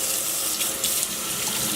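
Cold water runs steadily from a kitchen tap into a sink as raw chicken is rinsed, a loud, close, continuous splashing hiss with small flickers of spatter and no voices.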